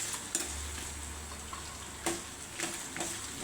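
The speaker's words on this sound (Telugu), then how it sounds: "ఆవాలు, లైట్గా జీలకర్ర వేసుకోవాలి." Mustard seeds and cumin sizzling in hot oil in a pan for mango pulihora, a soft continuous fry with a few sharp pops and stirring scrapes, quiet and close.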